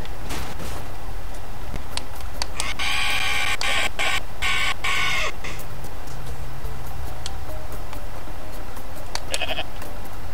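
Goat bleats from the video game Goat Simulator, several short bleating calls with a sustained bright cry in the middle, heard alone amid game sounds and clicks.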